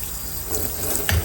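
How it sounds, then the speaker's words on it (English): Cold tap water runs over cooked lo mein noodles in a sink, a steady close rush of running water with a brief splash near the end. "I'm rinsing them off with cold water, stop the cooking process"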